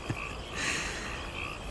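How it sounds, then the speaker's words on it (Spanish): Frogs croaking at night on a rural farm, a soft, steady chorus of repeated croaks in quiet darkness, moderately distant. "Sí, son ranas."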